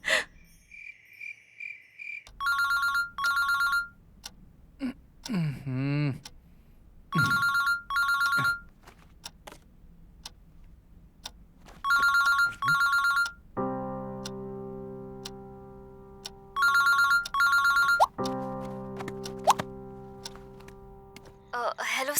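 A mobile phone ringtone rings for an incoming late-night call, repeating in bursts of bright electronic tones alternating with gaps and a sustained chime; loud and close, with no speech over it.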